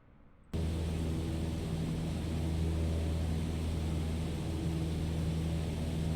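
A small general aviation airplane flies at 1,500 feet near Elizabeth Airport in Microsoft Flight Simulator 2020, its steady droning engine and wind noise cutting in abruptly after a short quiet start and holding constant.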